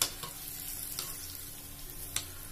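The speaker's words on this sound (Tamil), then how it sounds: "இந்த மாதிரி எல்லாத்தையும் வந்து திருப்பி திருப்பி விட்டுக்கோங்க. அப்போ தான் எல்லா பக்கமும் சமமாக வேகும்." Sweet urad dal bondas sizzle steadily in hot oil while a spoon turns them, producing a constant bubbling hiss broken by a few light scraping clicks.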